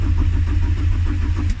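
A BMW 318i engine cranks without starting, giving a steady, loud, low mechanical whirring with a faint rhythmic pulse that carries on without a break.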